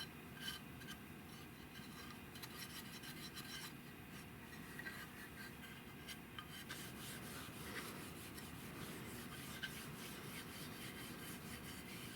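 A gray Scotch-Brite pad rubs back and forth over the freshly finished wooden stock of a Winchester 1876 rifle, producing soft continuous scratchy friction strokes, close but quiet, with no talking.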